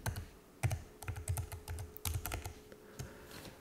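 Rapid typing on a computer keyboard while entering text into an animation template, with irregular bursts of crisp clicks and heavier key thumps, close and alone without talk.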